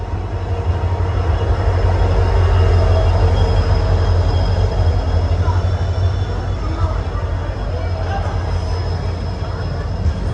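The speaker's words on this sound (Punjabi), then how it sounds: "ਆ ਗਈ ਟ੍ਰੇਨ" A loud, continuous low rumble of a train pulling into a station at close range, steady throughout with a faint high whine above it.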